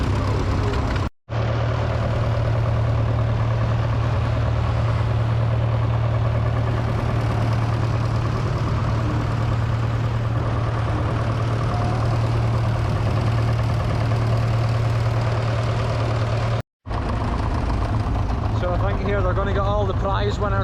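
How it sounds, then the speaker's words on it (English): Tractors idle together in the ring at the Kirriemuir agricultural show, a deep steady engine drone with a strong low hum running throughout, while someone talks over it on a loudspeaker. "So many tractors, folks,"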